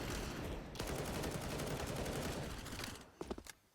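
Rapid bursts of gunfire from a professional Counter-Strike match are heard fairly faintly, dense and crackling for about three seconds, then a few separate sharper shots.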